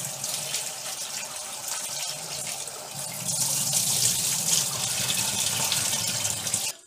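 Sea crabs are rinsed under a running tap, a steady rushing stream of water splashing into a sink that grows slightly louder partway through, with no talking.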